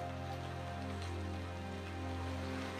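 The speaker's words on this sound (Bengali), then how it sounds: "কতদিন পর এরকম জোর বৃষ্টি হচ্ছে।" Heavy rain pours down steadily in a rural village setting, a dense, loud, unbroken hiss of drops with no voices over it.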